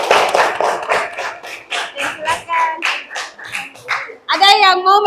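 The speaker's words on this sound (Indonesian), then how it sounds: "Oke, kasih aplaus dulu untuk teman kita yang di atas." Students in a junior high school classroom in Binuang, Polewali Mandar, clap in a loose, rapid patter, mixed with voices that carry on throughout and end in a louder burst of chatter.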